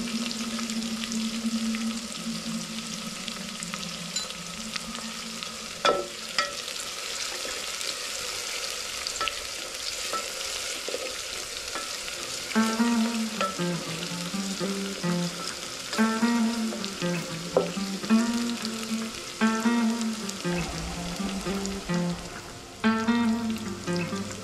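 Onion browning with garlic in a pan sizzles steadily up close, punctuated by stirring scrapes and clinks of a spoon.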